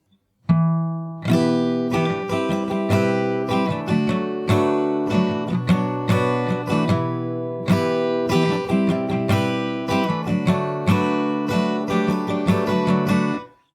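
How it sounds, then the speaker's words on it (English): An acoustic guitar plays the strummed section of a song solo, bright rhythmic chord strums in a steady pattern with a brief pause near the middle, close and clear. "we have a strumming part which sounds like this."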